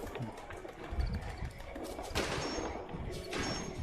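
Fallout 76 gunfire aimed at the queen, a few faint sharp shots, the loudest two in the second half, over quiet in-game ambience.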